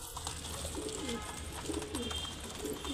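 A pigeon coos softly in three repeated low, rolling phrases against a steady background hum.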